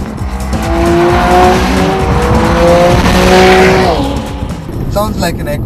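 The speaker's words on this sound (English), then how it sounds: "I would like to give you a small demonstration about the sound the flat six makes." A 2012 Porsche 911 Carrera S water-cooled flat-six engine revs and roars loudly, with tire squeal and rising and falling pitch, under background voices.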